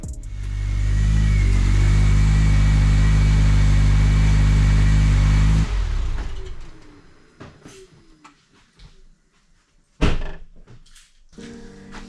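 A car engine idles and revs loudly up close in an auto shop for about six seconds, then cuts off, followed by scattered clanks, shuffling and a sharp door-like thunk.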